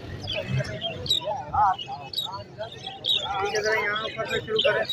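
Caged ring birds at a bird market chirp and coo nearby, with bright warbling calls running continuously under someone talking close by.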